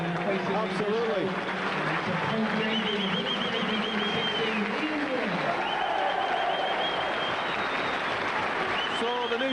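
Football stadium crowd at Burnley applauding a new signing bought from Stockport County, a broad steady wash of clapping and crowd noise under a commentator's voice throughout.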